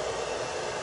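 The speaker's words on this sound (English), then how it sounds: "and just let the dryer do its thing" A hair dryer on its low setting blows a steady, close, even whoosh of airflow with no pauses and no voices.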